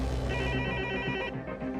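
A telephone rings with a steady electronic bell tone, loud and close, cutting off partway through the short burst.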